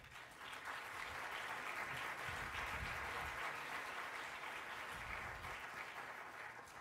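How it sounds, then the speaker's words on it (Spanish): A sustained round of applause fills an awards ceremony hall at the EcoFilm Festival as the audience welcomes an award presenter. It is a broad, even wash of many hands clapping, fairly distant and holding steady for several seconds. "recibamos con un fuerte aplauso a Alex Thyssen, director de Relaciones Institucionales"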